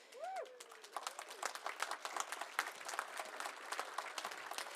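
At an annual convention fundraiser, a hall audience claps in a sustained round of applause, fairly distant and moderate in level, dense overlapping claps with a brief high sound near the start.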